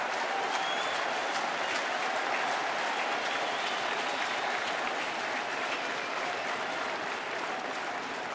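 Baseball crowd at a Giants versus Nationals playoff game cheering and clapping to rally pitcher Strasburg, a steady, loud wash of applause and crowd noise that holds throughout.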